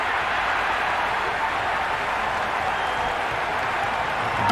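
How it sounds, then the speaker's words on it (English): Cricket stadium crowd at an India vs South Africa T20 international, a steady roar of cheering and applause filling the whole clip, loud and continuous without a break. "Will you listen to that crowd?"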